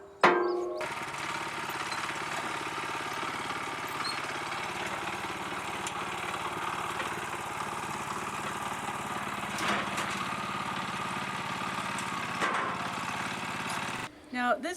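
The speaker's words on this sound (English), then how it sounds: "The wood chipper is so massive that you have to drive it like a tiny tank." A massive self-propelled wood chipper with its own engine runs at a steady mid-pitched drone on a farm in Ōmishima, Japan, with occasional clanks and faint voices over it.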